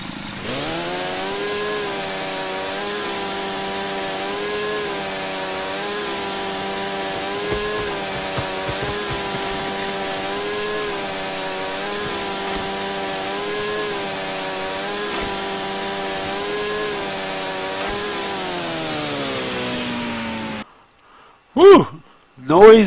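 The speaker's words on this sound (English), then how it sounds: "So, we're going to try using our chainsaw that we have, which is a number 3." A chainsaw in the video game StarForge runs steadily for about twenty seconds, a loud continuous buzzing drone with slight pitch wavering, then cuts off abruptly, followed by a couple of brief noises.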